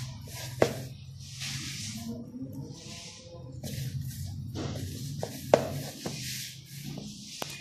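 Hands kneading and rubbing menin dough worked with hot ghee, giving soft squishing, rubbing sounds close by, with occasional sharp taps and no talk.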